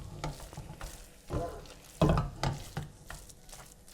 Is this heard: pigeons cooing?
no